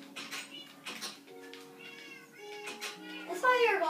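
A house cat meows several times, rising and wavering, loudest at the end, while people talk quietly nearby.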